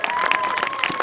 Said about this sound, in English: show your applause and well done.